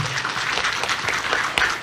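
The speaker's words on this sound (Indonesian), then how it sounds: "Tepuk tangan dulu untuk" Applause from an audience at a property product presentation, a steady close patter of clapping hands with a few sharper individual claps standing out.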